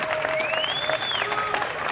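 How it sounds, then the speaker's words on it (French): A stadium audience claps for Maître Fuluta, dense sustained applause filling the space while a whistle-like tone glides across it. "Je voudrais que nous puissions tous applaudir pour Maître Fuluta."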